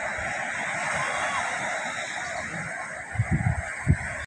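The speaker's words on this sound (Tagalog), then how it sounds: "Sobrang galaw po ng dagat." Rough sea waves surging and washing steadily with wind noise, close and fairly loud, with a few heavier thumps of water or buffeting toward the end.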